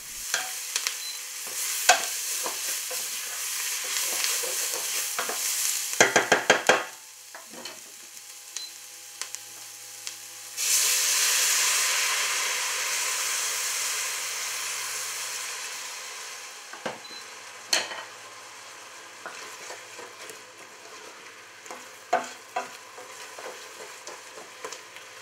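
A meat base frying in a pot with tomato paste and paprika before deglazing with red wine, steady sizzling with stirring clatter and spoon knocks, then a louder hiss midway as liquid hits the hot pan.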